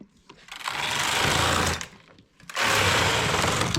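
A knitting machine carriage runs across the needle bed in two long passes, a loud steady whirring rattle with a brief pause between strokes.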